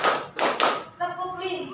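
Classroom of third-grade children clapping in rhythm, several loud group claps in quick succession, then a voice carrying on after the claps.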